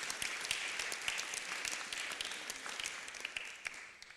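Conference audience clapping steadily, a dense patter of many hands at moderate distance and fairly soft level, continuing evenly with little talk.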